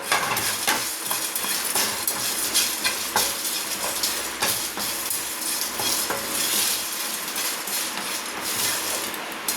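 Ginger and garlic stir-fried in a pan for a potato egg gravy, a close busy sizzle with rapid repeated clinks and scrapes of a spatula against metal, continuous and without talk.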